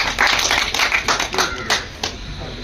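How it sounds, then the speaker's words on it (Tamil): An audience applauds at a Tamil theatre-world tribute ceremony honouring Sankaradas Swamigal. Dense, steady clapping runs for the whole moment, close and fairly loud, and fades slightly toward the end. "ஒரு கைத்தட்டல் கொடுக்கலாம்"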